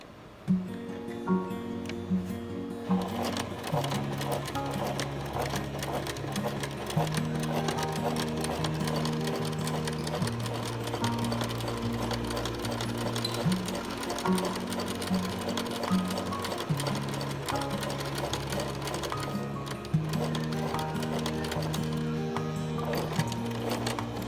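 A sewing machine stitches a cloth face mask, running in a steady close whir with short pauses and shifts in speed, alone without voices.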